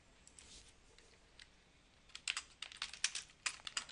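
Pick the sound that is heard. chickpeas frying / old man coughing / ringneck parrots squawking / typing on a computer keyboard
typing on a computer keyboard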